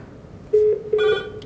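Telephone on an IP Office extension rings twice in short electronic bursts, close and clear, with no talk over it.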